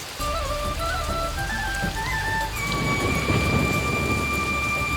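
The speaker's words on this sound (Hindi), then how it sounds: "ये बारिश भी ना रोज रोज बढ़ते ही जा रही है।" Heavy rain pours steadily and loudly throughout, a dense continuous hiss with deep rumbling underneath and faint musical tones drifting over the top.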